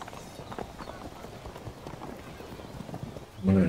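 Horse archers gallop in a Byzantine battle video game, giving quick clip-clop hoofbeats under a low, steady mix, and then a louder burst near the end.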